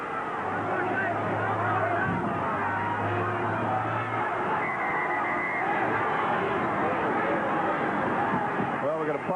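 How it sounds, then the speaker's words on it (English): Rugby league crowd at a 1987 Canterbury versus Parramatta match, a dense roar of voices with chanting rising and falling throughout, steady and loud from start to end. "And now the crowd start their usual chant of getting back on side."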